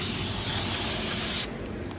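Brake cleaner aerosol hisses in one strong, steady spray onto a snow plow pump for about a second and a half, then cuts off abruptly, leaving a quiet background.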